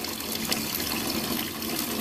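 Tap water runs steadily over a toothbrush during a tooth-brushing routine, a continuous close splashing trickle heard alone for the full two seconds.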